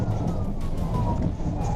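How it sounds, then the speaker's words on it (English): A police car siren wails beneath a dense rumble of traffic and engine noise during a pursuit, steady and moderately loud across the short stretch. "the officer activated his lights and siren"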